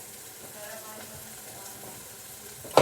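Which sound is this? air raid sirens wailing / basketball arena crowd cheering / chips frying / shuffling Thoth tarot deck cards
chips frying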